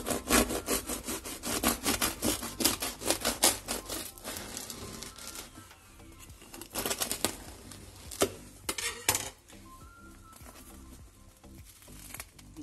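A knife saws through a freshly baked loaf of candeal village bread, cutting it in half with rapid rasping strokes through the crust that slow and soften as the blade reaches the crumb.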